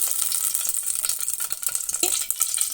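Oil heats in a pan for a tempering step in a Telugu raw mango pulusu, giving a steady, moderately loud fizzing sizzle with scattered faint pops and a light metallic rattle, with no talking.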